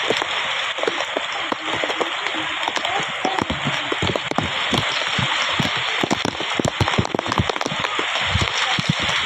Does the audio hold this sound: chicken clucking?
no